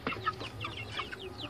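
A flock of 30-day-old white broiler chickens clucking softly, a handful of short, quiet calls scattered over a moment, with no voices.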